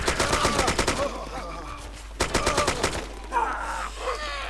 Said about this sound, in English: I'm going to waste a bit of ammo